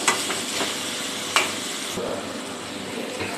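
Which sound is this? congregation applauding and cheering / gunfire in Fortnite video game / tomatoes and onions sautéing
tomatoes and onions sautéing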